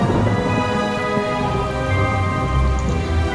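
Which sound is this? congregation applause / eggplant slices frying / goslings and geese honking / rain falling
rain falling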